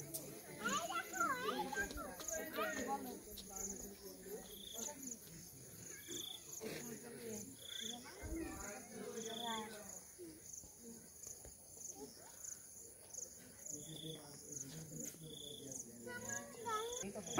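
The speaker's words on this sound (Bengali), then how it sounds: "চতুর্দিকে ঝিঝি পোকার ডাক অলরেডি শোনা যাচ্ছে।" Crickets chirp steadily all around on a night in the hills, a dense high-pitched shimmer with repeating pulses running throughout, faint and continuous beneath soft rustling and occasional low thumps.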